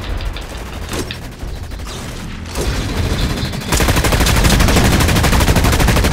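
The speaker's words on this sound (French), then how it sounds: "Moi, ça tire de partout, putain." Dense gunfire all around in the shooter game DUST 514, with rapid automatic bursts and booms that grow busier and louder toward the end, close and continuous.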